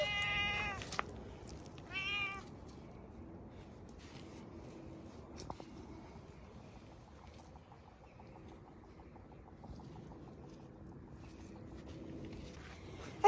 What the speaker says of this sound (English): We don't know who this cat is, but he's been around a lot recently.